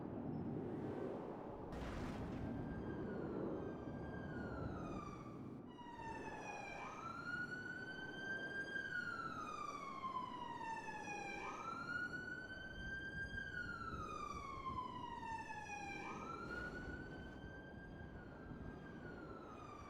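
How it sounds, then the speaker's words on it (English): Emergency vehicle sirens in a roleplay video game wail in long rising and falling sweeps, a steady siren that repeats several cycles at moderate loudness with no talk over it. "I did hear some sirens."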